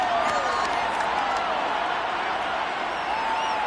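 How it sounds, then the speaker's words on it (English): A packed stadium crowd at a Detroit versus Atlanta football game keeps up a steady roar of shouts while watching a replay, loud, dense and continuous throughout. "Plenty of shouts from this crowd as they watch the replay."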